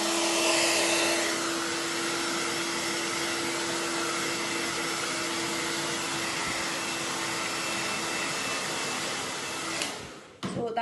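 Hair dryer blow-drying hair in a wrap dry, a loud steady close-up whoosh with a constant motor whine that runs unbroken for about ten seconds before cutting off abruptly.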